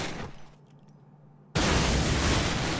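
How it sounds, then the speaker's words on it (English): A grenade explodes suddenly in Call of Duty after a quiet moment, a loud, broad blast that roars and rumbles on as debris and noise continue. "Oh, throw a grenade at it."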